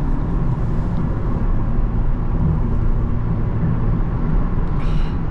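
A 2024 Cupra Leon 1.5 eTSI 150 hp with DSG gearbox accelerates in mid-range, heard as a loud, continuous engine and road roar from inside the car.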